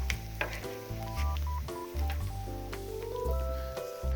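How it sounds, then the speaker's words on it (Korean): Shredded dried pollock deep-fries in oil over reduced heat until brown, making a soft, steady sizzle with intermittent stirring and squishing clatter, close but quiet. "갈색 색깔이 날 정도 될 때까지 튀겨내겠습니다."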